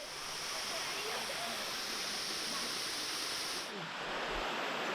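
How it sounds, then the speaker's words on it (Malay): Durian Perangin waterfall in Langkawi fills the air with a steady, dense rush of falling water, constant and close, with no breaks across the few seconds. "sekarang ni saya telah pun berada di bahagian air terjun Durian Perangin"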